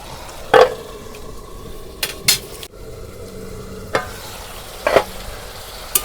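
Pointed gourd and potato fry with spices in a pan, a soft continuous sizzle broken by several sharp metal spatula scrapes and clanks as the mixture is stirred.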